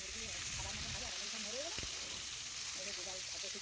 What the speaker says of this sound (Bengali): এখন আমি মাছগুলো দিয়ে দিচ্ছি। মাছের এক পাশ ভালোভাবে ভেজে নেওয়া পর্যন্ত বেশ কিছুক্ষণ অপেক্ষা করে নিতে হবে।